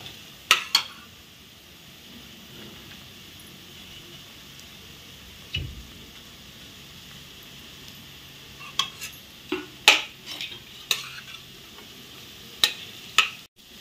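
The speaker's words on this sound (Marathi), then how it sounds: "आपण कांदा आधी थोडा परतून घेऊया" Onion and spring onion sauté in a pan, a faint low sizzle running throughout, with scattered sharp taps and clinks from a spoon against the pan, more frequent toward the end.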